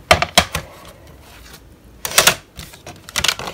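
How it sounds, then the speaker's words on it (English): A manual die cutting machine is cranked to cut card, producing a series of close, sharp clicking and clunking bursts in two clusters separated by a brief quiet gap. "We'll run that through the die cut machine now."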